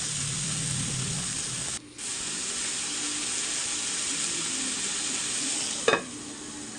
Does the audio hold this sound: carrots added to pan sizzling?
yes